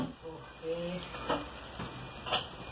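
A Brazilian refogado of sautéed seasoning sizzles in a pan close by, a soft steady frying hiss with a few brief stirring bursts, while a person talks in the background.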